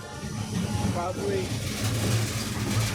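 A train rumbles past steadily with a low rolling drone and hiss, close and continuous, while a person speaks briefly over it.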